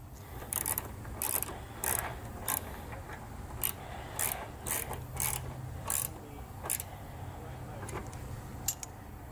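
Trailer connector being fastened onto its mounting bracket on a 2020 Jeep Cherokee, giving a series of short clicks, scrapes and ratcheting taps at irregular intervals over a low steady hum, close and moderately loud.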